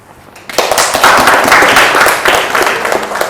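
A classroom of students claps for classmates who have just presented: after a brief quiet start, dense, loud applause rises and continues steadily to the end.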